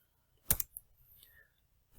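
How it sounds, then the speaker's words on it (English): Typing a Linux terminal command on a computer keyboard, heard as a few sharp, close key clicks: a quick pair of taps, a lighter tap, then one more click after a pause in a quiet room. "So I'm going to type"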